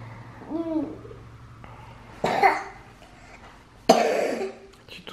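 A child coughs twice in a quiet indoor room, two separate harsh bursts a second or so apart, loud and close; a faint voice is heard briefly before them.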